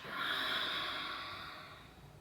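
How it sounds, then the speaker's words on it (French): A single slow breath out through the mouth, soft and close, rising quickly and fading away over about two seconds during a gentle vinyasa yoga breathing exercise. "Et on expire par la bouche."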